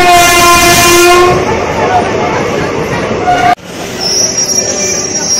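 A train pulls into a railway station, its loud horn blaring for over a second over rumbling wheels, followed by metallic squeal and clatter up close.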